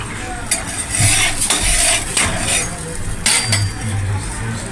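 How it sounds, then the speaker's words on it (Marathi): Rava poli, a semolina-filled flatbread brushed with oil, roasting on a hot griddle, with a steady sizzle and repeated scraping and clinks of a utensil, close and fairly loud. "तर ह्याला आता खरपूस रंग येईपर्यंत मी अशी भाजून घेणार आहे."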